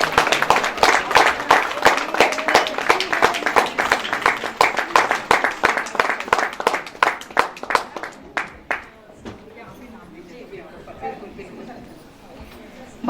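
Audience applause at a Maharashtra Mandal women's wing anniversary function in Bhilai, with rapid rhythmic clapping in unison that gradually slows and fades out, followed by quiet murmuring chatter.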